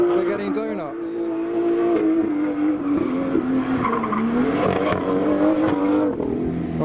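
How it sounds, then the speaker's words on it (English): A Mazda MX-5 spins out and does donuts on a roundabout at a modified car meet, its tyres skidding and squealing in a steady, loud, continuous screech under crowd noise and talking. "Oh, the MX-5 has spun out. He's just doing donuts now."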